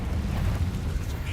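A Confringo blast spell fired in the Hogwarts Legacy video game, rendered as a dense, sustained rumbling burst that fills the short moment at steady loudness.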